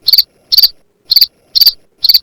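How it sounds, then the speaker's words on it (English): Crickets chirp in five evenly spaced bursts, each a quick trill of high pulses separated by short silences, loud and close with nothing else audible, used as a sound effect. "Where's the crickets?"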